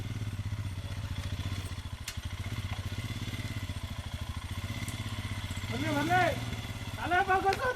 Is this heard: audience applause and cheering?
no